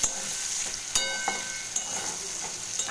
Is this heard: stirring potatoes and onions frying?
yes